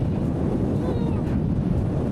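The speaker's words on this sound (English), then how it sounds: "This is crazy how windy this is." Strong wind on open English moorland buffeting the microphone with a heavy low roar, gusty and continuous for a couple of seconds.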